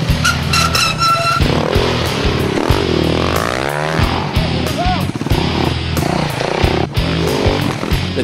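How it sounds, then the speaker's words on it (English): Trail motorcycle ridden along forest single track in a state forest during an annual trail ride, engine droning and revving continuously close by, with talk over the top. "Pop Gun sped off on his own and hit the single track."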